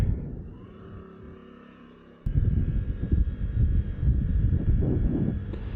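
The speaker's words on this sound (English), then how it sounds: "Wow, transmission sounds a lot different." A Honda Navi scooter fitted with a Malossi variator, 8.4 g rollers and an NCY clutch rides along, its drivetrain droning under heavy wind rush that jumps abruptly louder partway through.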